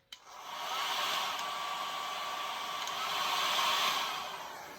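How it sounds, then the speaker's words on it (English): A 1000-watt hair dryer on a high, cool setting gives a steady, even whoosh of blown air over acrylic paint. It sounds close and moderate in level, with a short click at the start and no voices. "This is my 1000-watt hair dryer that does have a cool setting, and I will be blowing this on."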